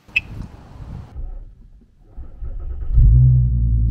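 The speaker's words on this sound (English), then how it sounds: "That exhaust is loud, loud." Volkswagen Golf R32 V6 hot hatch with its loud exhaust, a low rumbling idle that dips briefly and then swells into a deep, steady, louder drone, close by with no talk over it.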